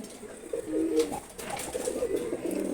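A pair of khaki pigeons coo softly nearby, low throaty calls repeating in gentle rolling phrases against a quiet background.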